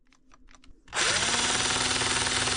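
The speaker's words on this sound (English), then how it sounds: "That's where we'll drill the holes in the wood." A power drill boring holes in a wood board for a DIY Brompton bag mount, a few faint clicks and then the motor kicking in loud and whining steadily, close by.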